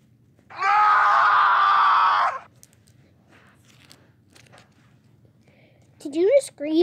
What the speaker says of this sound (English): did you just scream?